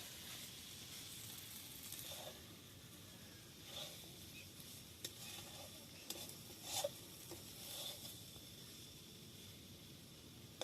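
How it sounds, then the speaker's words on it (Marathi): Food is stirred in a pan at a sugarcane-cutting camp, with a faint, low sizzle throughout and scattered soft scrapes and taps of a utensil, a small cluster near the end. No speech. "चांगलं हलवून घ्यायचं मस्त"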